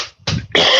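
Coughing from someone in a podcast conversation during allergy season, two or three harsh broadband bursts close to the mic with short gaps between them.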